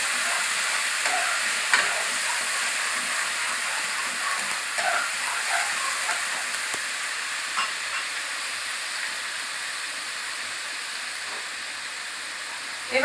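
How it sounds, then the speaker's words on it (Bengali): Onion and a few garlic cloves sautéing in oil, a steady hiss of frying with occasional faint stirring scrapes, continuous and moderately loud. "এবার এটাকে ভালো করে কষতে হবে যতক্ষণ না তেলটা ছেড়ে যাচ্ছে"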